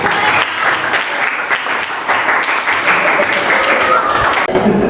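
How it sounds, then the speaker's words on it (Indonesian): Classroom applause as students clap for a group about to present, a dense, steady wash of many hands lasting the whole stretch, loud and close with some murmured voices underneath. "Tepuk tangan untuk kelompoknya."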